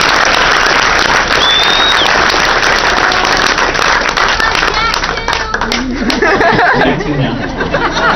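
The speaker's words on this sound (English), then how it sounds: "how about a round of applause for Jack?" Applause and cheering from a large audience at a high school jazz band concert honoring a clarinet soloist, dense and sustained throughout, with crowd chatter and a few voices rising near the end.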